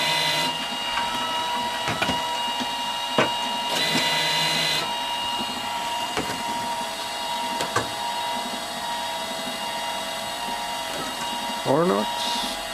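An LAB510 labeling machine applies labels to folded cartons on a test run. It keeps up a steady mechanical whir with regular ratcheting clicks and clunks, and there is a squeaky rising whine near the end.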